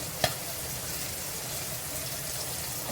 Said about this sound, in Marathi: लिवर घातल्यावर आपल्याला त्याच्यावर झाकण ठेवायचं आहे नाही असं फटफट उडत राहतं